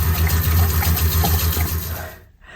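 A shower runs aboard a 25ft narrowboat, a dense, steady hiss of spraying water close by that cuts off abruptly near the end.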